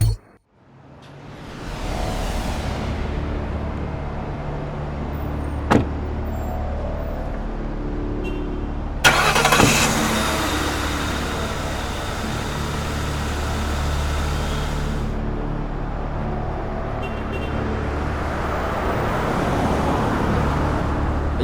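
A motor vehicle engine starts and pulls away on a road, its rumble steady and close, with a sharp brake-like hiss partway through and traffic noise continuing.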